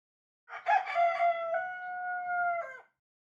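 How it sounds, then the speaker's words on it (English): A rooster crows once, a clear, drawn-out call with a sharp start and a long held note that drops off at the end, alone and fairly close. "Then the rooster crowed the 3rd time."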